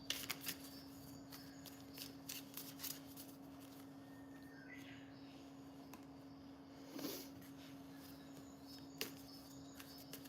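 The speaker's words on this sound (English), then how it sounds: "I'm shuffling my cards." Tarot cards are shuffled in quiet, crisp riffling bursts over a constant low electrical hum, with soft scattered flicks and a slightly louder riffle partway through.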